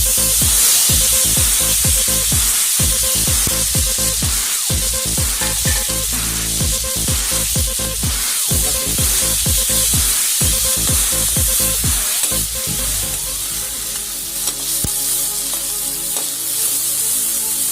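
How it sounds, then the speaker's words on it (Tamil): Chopped onion and tomato frying in oil for spicy egg curry, a loud steady sizzle with a rhythmic stirring pulse running throughout, close up. "நல்லா ஆனியன் வந்து ப்ரௌன் கலரில் வர அளவுக்கு நல்லா ஃப்ரை பண்ணிடுங்க"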